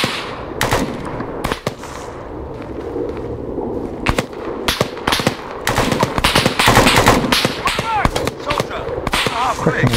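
Dense automatic gunfire from a firefight in the military shooter Arma 3, with rapid bursts and sharp cracks packed close together throughout, loud and continuous with occasional pauses.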